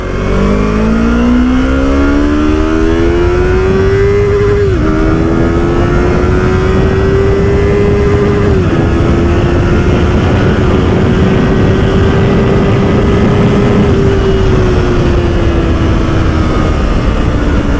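A 2019 Yamaha YZF R3 sport motorcycle engine revs hard and loud, climbing to a high-pitched scream near 13,000 rpm, dipping briefly, then holding near its peak for a sustained stretch.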